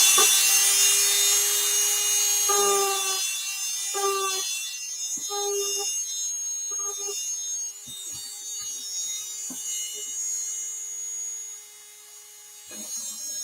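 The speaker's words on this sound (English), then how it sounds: "Grind away a bit at this." Rhythmic rubbing grinding on a Deathscythe Gundam cosplay prop, close and steady in repeated strokes with short pauses, alone without talk.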